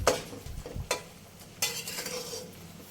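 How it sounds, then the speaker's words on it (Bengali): Raw mango simmers in jaggery while a spoon stirs it, giving a few scraping strokes against the pan over a soft sizzle, with no talking. "কন্টিনিউ এইভাবে নাড়াচাড়া করে নিতে হবে।"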